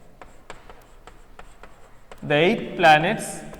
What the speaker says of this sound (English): So I will write here the 8 planets,